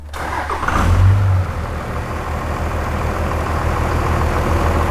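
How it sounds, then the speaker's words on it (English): A diesel truck engine fitted with an EGT sensor cranks and catches, revving up briefly before settling into a steady, loud rumbling idle. "Let's start the truck."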